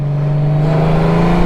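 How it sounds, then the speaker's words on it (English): A Honda Goldwing motorcycle engine in sport mode revs hard under the DCT gearbox, a loud, sustained rising drone with a clear climbing pitch over a second and a half. "The DCT instantly goes a couple of gears down, holds the revs longer, and at 3000 RPM this thing shifts"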